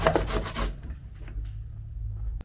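Pumpkin being grated by hand, a few quick rasping strokes up front followed by quieter low rumbling background.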